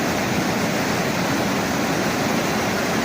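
A waterfall roars steadily nearby, a dense, unbroken rush of falling water at constant loudness with no voices over it.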